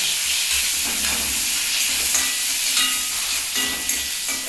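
Onion and black cumin frying in hot oil for a bitter gourd and potato dish, a loud steady sizzle and hiss close by throughout, without any talking.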